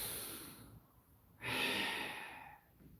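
One long, deep breath is drawn in and pushed out slowly as a breathing demonstration in a class, close and clear, with a quiet pause between the two phases.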